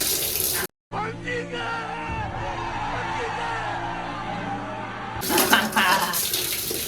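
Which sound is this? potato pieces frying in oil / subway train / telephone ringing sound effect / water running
water running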